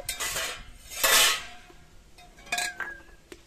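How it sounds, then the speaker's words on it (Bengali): A freshly washed metal wok being set back on a kitchen stove for making homemade tomato sauce, with two loud close metallic clanks followed by lighter clinks and a short ringing tone. "আমি কড়াইটাকে খুব ভালো করে পরিষ্কার করে ধুয়ে নিয়ে এসে আবার উনানে বসিয়ে দিয়েছি"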